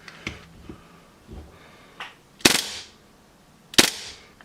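A GSB Dragon six-inch Hi-Capa airsoft pistol fires, giving a handful of sharp snapping cracks at irregular spacing, two of them much louder than the quieter pops between them, in an otherwise quiet room.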